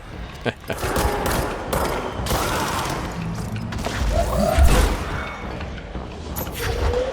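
Gunfire in Control aimed at a sniper, with rapid bursts of shots, booms and crashing debris, loud and busy throughout the game's combat.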